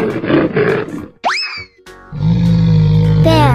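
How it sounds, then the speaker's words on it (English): Cartoon bear growl, a loud sustained low rumbling roar that fills the last second and a half, preceded by a springy boing effect. "Bear."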